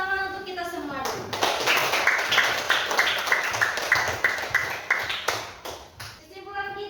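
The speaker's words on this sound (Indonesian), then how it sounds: "beri tepuk tangan untuk kita semua dulu" A short burst of clapping from a group, brisk and close, between bits of speech, with chiming tones at the start and end.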